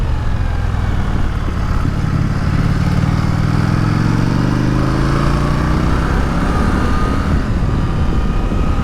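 An Indian Super Scout motorcycle engine pulls hard on a test ride, a loud, steady, close drone with pitch rising and falling through acceleration and shifts, with wind noise throughout and no talking.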